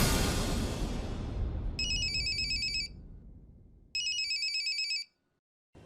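A telephone rings in two electronic trilling bursts with a pause between, heard in a quiet room after a fading rush of background sound.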